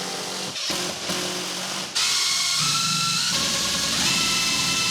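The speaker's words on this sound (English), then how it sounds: "Now I just need to put the other spacers in and screw them down." Spacers being screwed down to mount a pegboard on a garage wall: a loud, steady motorized whirring that cuts out briefly near the start, then resumes and runs strong to the end.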